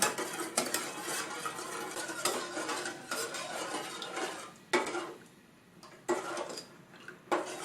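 Sugar syrup being stirred in a pot for pickled ginger, with irregular metallic scrapes and clinks of a utensil against the pot, fairly close and steady, and a few short pauses, no voices.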